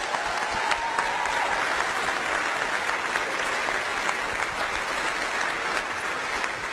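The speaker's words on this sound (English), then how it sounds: "Please give them a round of applause." A large audience at a celebration event gives thunderous, continuous applause. The dense clapping stays steady and even from start to finish.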